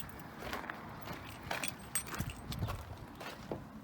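Keys jangle and clink quietly in short, irregular bursts, close by, with some faint rustling and handling noise.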